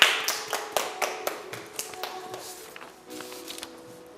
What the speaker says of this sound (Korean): 우리 주님께 영광 박수 올리겠습니다.